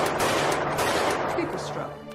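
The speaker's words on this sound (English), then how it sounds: "The gunshot sounds were out of sync with her actual acting." Movie gunshot sound effects: a dense burst of rapid gunfire cracks, like a fusillade, loud at first and thinning toward the end, with no talk over them.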